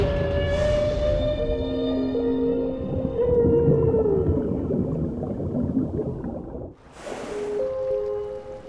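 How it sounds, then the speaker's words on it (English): A male humpback whale sings underwater, long moaning and wavering tones sliding up and down, loud and close, with a sharp high swoop near the end against a faint ocean wash. "male humpback whale, a singer. His complex and haunting song can be heard for miles underwater."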